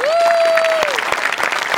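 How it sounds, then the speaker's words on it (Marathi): A studio audience at a Marathi television comedy show claps loudly and continuously for a comedy performer. A bright whistle rises over the applause at first, then the clapping carries on alone. "एकदा जोरदार टाळ्या होऊन जाऊ दे"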